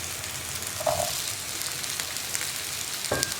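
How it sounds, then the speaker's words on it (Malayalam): Grapes being added to chillies frying in a pan for chutney, giving a steady loud sizzle throughout with a few brief clatters of stirring. "ഇനി നമുക്കിതിലേക്ക് നമ്മുടെ മുന്തിരി ചേർത്ത് കൊടുക്കാം."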